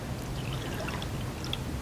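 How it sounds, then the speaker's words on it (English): Water pours steadily into a saucepan in a home kitchen for a jam or jelly recipe, a continuous close splashing trickle with no pauses and no voices. "I'll add my water to that."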